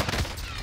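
A short burst of gunfire in the video game Call of Duty Warzone, a loud, dense crack lasting well under a second with a heavy low-end thump.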